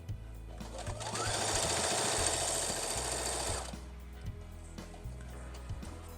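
A sewing machine stitches a tote bag seam: a dense, rapid mechanical whirr that starts at about one second, runs steadily and loudly for nearly three seconds, then stops, leaving a low hum and light handling sounds.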